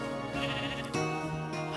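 Sheep in the Minecraft video game bleat in two short, nasal calls close to the listener, layered over steady tonal game background sound.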